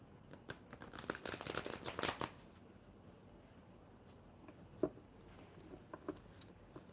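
Cards are shuffled for a few seconds, a quick flurry of crisp riffling and patter that stops, followed by near quiet with a couple of soft handling taps.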